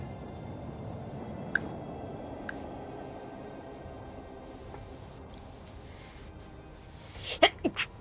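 A single close sneeze bursts out near the end, a quick couple of sharp puffs after a long stretch of quiet low room noise, with no talk.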